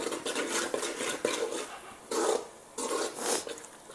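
A spoon scrapes and stirs chicken curry with chilli and coriander in a pan, in close, continuous rubbing and clinking strokes with a few louder scrapes near the end.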